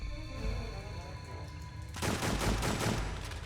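A burst of rapid gunfire from the video game Extermination cuts in after a stretch of low game ambience and continues loud and dense to the end.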